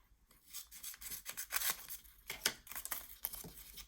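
Paper being trimmed with scissors while making a folio journal insert, a close, quiet series of rapid snipping and rustling strokes.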